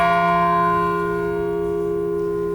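A church bell at Veterans Honor Park in Chesterfield tolls one loud, ringing stroke whose rich overtones hum and slowly fade on their own.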